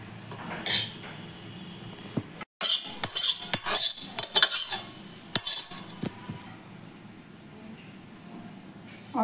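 Rice being spooned in layers into a chicken biryani pot, heard as irregular bursts of metal spoon scrapes and clinks against the pot, close and fairly loud, with quieter pauses between scoops.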